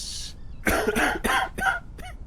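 A character in the Quarantine Zone video game coughs in a rapid series of about four or five harsh, close coughs after a short hiss.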